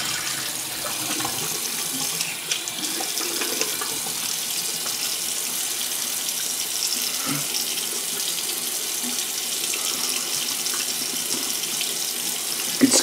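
Tap water runs steadily into a sink for a rinse after a shave, a close, continuous splashing stream with occasional small knocks and no speech.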